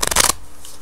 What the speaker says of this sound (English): And here's the 4th shuffle.